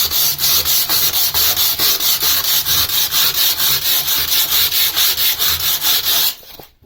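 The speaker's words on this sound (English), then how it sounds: "So let's just do some sanding." Loud, rhythmic scratchy strokes of 60-grit sandpaper rubbed back and forth across a peeling, cracked painted wall above shower tile, about three passes per second, stopping abruptly at the end.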